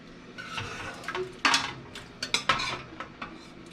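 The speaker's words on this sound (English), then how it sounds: "now I'm going to put my sauteed mushrooms in there" Sauteed mushrooms being emptied into a pot of homemade vegetable beef soup, a few soft clinks and scrapes of a utensil against cookware with a faint sizzle, fairly close.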